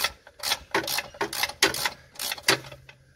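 A ratchet cranks out bolts from a VE Commodore transmission in a shed, giving a close series of rapid clicking bursts, about eight quick ratcheting strokes in a row, loud and alone.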